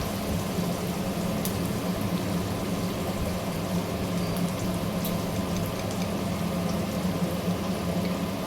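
Onions fry with turmeric powder in a pan, giving a steady, even sizzling hiss that continues throughout without talking.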